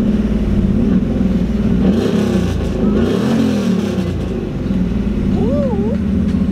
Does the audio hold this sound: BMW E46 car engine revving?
yes